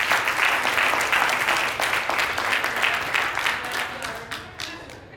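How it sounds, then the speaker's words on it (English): A panel discussion audience claps for panelist Amber Rose Howard, a dense, sustained round of applause from a room full of people that tapers off gradually toward the end. "let's give Amber Rose Howard a big round of applause"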